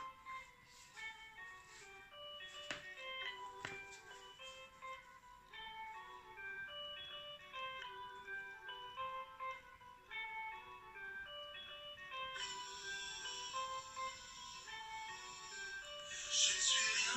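A French song used as a phone ringtone plays steadily at low level for the whole stretch, a bright, chiming melody with repeating tones and no talking over it.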